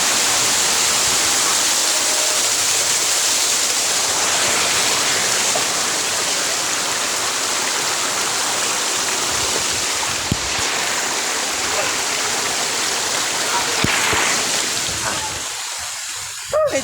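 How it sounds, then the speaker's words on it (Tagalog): Constant heavy rush of water at Giluparan Falls, a loud, dense roar close by that fills the whole scene, with voices faintly audible beneath it. "Welcome na sa Giluparan Falls."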